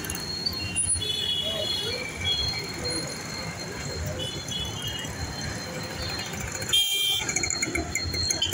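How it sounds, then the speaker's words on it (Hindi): Congested street traffic at Bhulabhai cross road in Ahmedabad, a steady roar of engines with several vehicle horns honking at intervals, some near and some farther off, with a voice talking over it. "ट्रैफिक का कंजेशन भी हो रहा है।"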